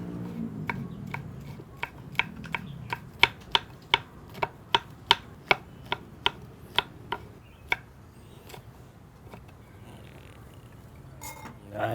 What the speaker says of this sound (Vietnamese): Bây giờ tôi thái mộc nhĩ